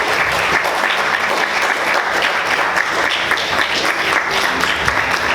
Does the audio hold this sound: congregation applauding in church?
yes